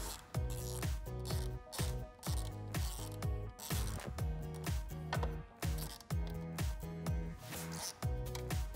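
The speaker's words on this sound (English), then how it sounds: "I'm just using the T15 Torx bit that we originally used to remove these Torx screws" Torx screws are driven with a T15 bit while fitting LED fog lights with daytime running lights to a 2007-2018 Jeep Wrangler JK, giving a close, steady run of rhythmic ratcheting clicks and grinding turns that repeat about every half second.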